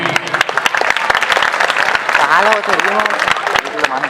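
Loud, dense applause from a crowd at a school annual function prize ceremony, continuous clapping throughout with a voice speaking in Hindi over it.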